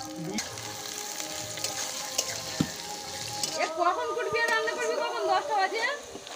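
Sliced onions hit hot oil for biryani birista, with quiet kitchen rustle giving way to a growing, crackling sizzle partway through, and a voice talking over the frying.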